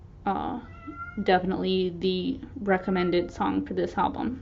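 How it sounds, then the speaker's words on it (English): A pet cat meows repeatedly just outside a door, its cries mixed in with a person talking steadily over them. "I'm so sorry if you can hear my cat meowing."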